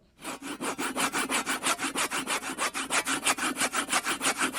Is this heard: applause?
no